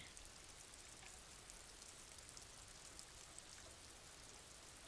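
Rain in the video game Disco Elysium: a faint, steady patter of raindrops with no talk.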